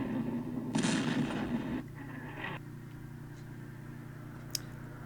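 Artillery shells land in the Vietnam war game Campaign Series Vietnam at Khe Sanh. Two short, rumbling bursts come in quick succession and are followed by quieter background hum and a faint click near the end.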